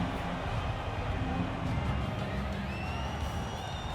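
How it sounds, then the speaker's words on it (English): Crowd in a UFC 5 video game arena in Brazil roars and cheers steadily as a broad wash of noise, with a few whistles rising through it near the end. "The crowd is going crazy."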